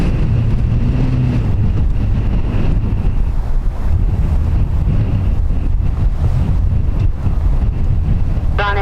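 Strong, gusty crosswind buffeting the microphone at Dublin Airport, a loud, continuous low roar with surging rumbles throughout and no voices.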